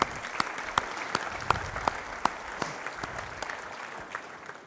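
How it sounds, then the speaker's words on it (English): A conference audience at a keynote in Berlin claps steadily, a sparse, roomy patter of hands with a few sharper claps standing out, heard alone without talk. "So please give another round of applause to them."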